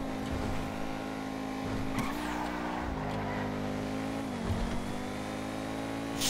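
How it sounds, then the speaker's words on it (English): A sports car in GTA 5 Online's Ill-Gotten Gains update revs hard with a loud, steady engine note that dips and climbs through gear shifts, with no talk over it. "just listen to the engine."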